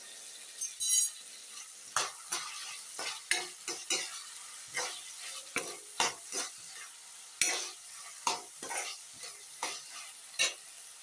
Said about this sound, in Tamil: இப்போ பாருங்கள், கேரட்டு பீன்ஸ்லாம் வதங்கிடுச்சு நல்லா